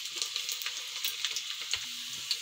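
Oil frying and sizzling in a pan for kadhi: a steady, soft crackling hiss with tiny pops scattered throughout, close by and constant, with no voices.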